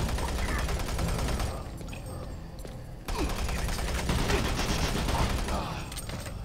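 Rapid gunfire in the video game Doom 3: dense, continuous shots and bursts with a short lull before the firing resumes, under a busy game soundscape.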